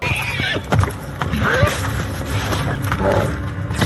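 Horse neighing in a Game of Thrones episode, several whinnies over hoof clatter and a busy background, with people talking faintly underneath.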